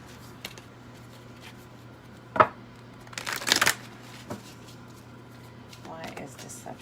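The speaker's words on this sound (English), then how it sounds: "let me just shuffle these up to pull a few cards on this section" Cards are shuffled in a few short riffling bursts, close and fairly quiet, with soft handling noises between.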